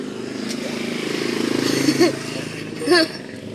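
A motorcycle engine idles steadily close by, a low rumbling drone under laughing voices and chatter.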